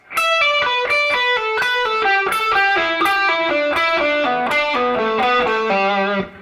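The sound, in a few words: slow electric guitar pull-off triplet run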